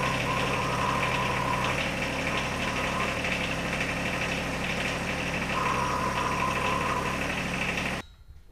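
A John Deere 1025R compact tractor with a loader and grapple, its engine running at a steady, loud, close idle with a rough mechanical rumble that cuts off near the end, no talking.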